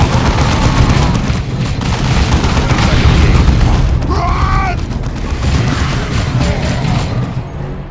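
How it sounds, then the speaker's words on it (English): Heavy bolter fire from a Devastator squad in Warhammer 40K Dawn of War 2, a dense, loud roll of booming gunfire and explosions carrying through the whole stretch, with a brief voice-like call in the middle. "Devastator's ready to fire. Our heavy bolters are deadly"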